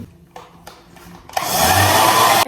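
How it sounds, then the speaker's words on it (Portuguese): A hair dryer switches on and blows steadily into a satin cap worn on the head, a loud close rushing whoosh after a few soft clicks and handling sounds. "É uma touca de cetim na minha cabeça e daí você enfia o secador ali dentro."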